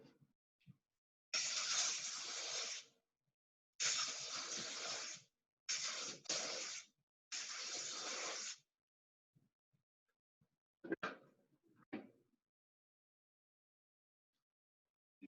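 Water-based paint sprayed onto a bare metal spanner, heard as four steady hissing bursts of a few seconds each, close and fairly loud, with short silent gaps and a few soft handling knocks afterward.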